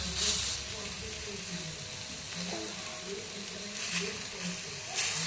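Raw banana slices fry in a small amount of oil with a steady, close sizzle and occasional stirring scrapes, while someone talks softly over the cooking.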